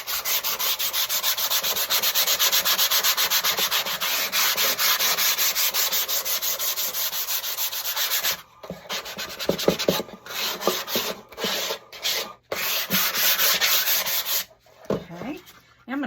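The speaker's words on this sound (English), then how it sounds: "take a piece of sandpaper, and it's 150 grit, and we are going to just lightly sand it" Fine 150-grit sandpaper rubs over a craft tray in steady rapid strokes, loud and close, breaking into shorter uneven passes with brief pauses toward the end.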